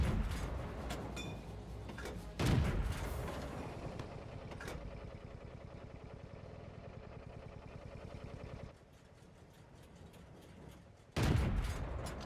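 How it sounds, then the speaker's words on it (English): Artillery fire in World of Tanks from a Leichttraktor tank, loud sharp blasts spaced several seconds apart over a steady rumbling tank engine idle. "Keep shelling that position"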